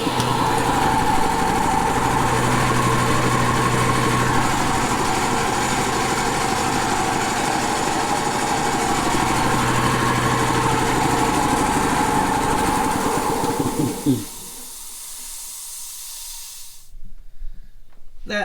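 Air compressor motor running loud and continuous with a high mechanical whine and hiss for about fourteen seconds, then cutting off abruptly into near quiet with a faint short rattle afterward.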